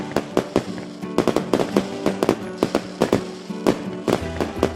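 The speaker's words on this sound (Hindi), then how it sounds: "अपने घर के बाहर पटाखे जला रहे थे।" Firecrackers set off outdoors for Diwali crackle and pop in rapid irregular bursts, a dense string of sharp loud bangs close by with no talking.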